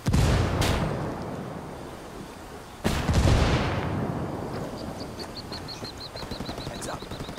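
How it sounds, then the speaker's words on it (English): Flashbang grenade in a video game: a sharp, loud bang with a decaying roar, a second near blast about three seconds later, then a rapid electronic ringing tone fading in. "I'm tossing a flashbang."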